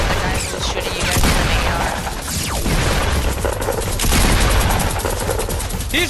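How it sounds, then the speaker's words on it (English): Rapid bursts of AR rifle fire in a shooter video game, loud repeated volleys and scattered shots over several seconds, with players' voices in the background. "Look at the guy who's shooting you guys in"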